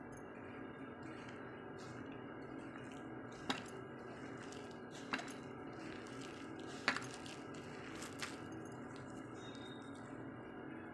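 Wheat flour and moong dal dough kneaded by hand in a bowl, giving soft wet squishes and presses with a few sharper slaps, quiet and close, without talk.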